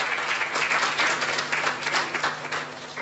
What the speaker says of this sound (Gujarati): ખરેખર એમના માટે તાળીઓ પાડવી જોઈએ.